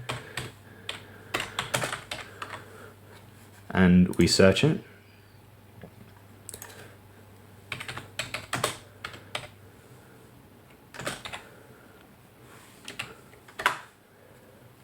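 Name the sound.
typing on Dell SK-8135 keyboard to search eBay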